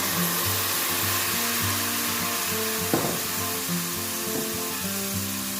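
White wine is poured into a pan of toasting rice for a pea and pancetta risotto, giving a close, steady sizzle with a burst of splashing and bubbling partway through, then settling back to frying.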